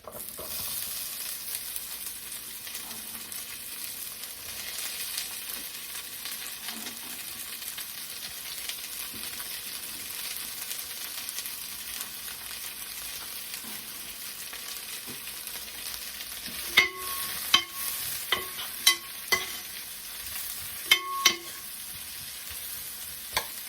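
Onions and golden-browned garlic fry in a pan with a steady, close sizzle throughout, joined near the end by a few sharp clinks and scrapes of stirring.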